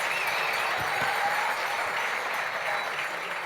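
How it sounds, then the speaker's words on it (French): An awards-ceremony audience at the Chronos d'or ski event applauds Olympic fourth-place finisher Ben Cavé, a continuous, even wash of many hands clapping throughout, moderately loud and alone. "je voudrais que, voilà, on l'applaudisse aussi"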